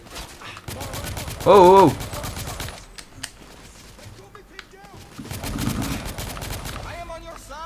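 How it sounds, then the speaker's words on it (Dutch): Bursts of rapid automatic gunfire in The Order: 1886, repeated volleys with pauses and scattered single shots, while someone speaks and exclaims loudly over the shooting. "Gewoon even normaal schieten."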